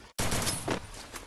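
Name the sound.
gunfire in a video game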